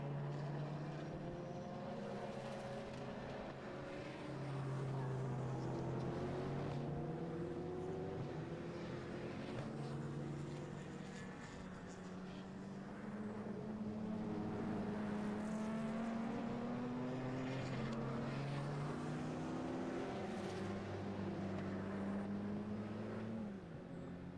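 Race cars lapping at a circuit, among them a Ford Fiesta: a continuous layered engine drone with rising and falling pitch as cars pass, moderately distant and sustained throughout, no voices.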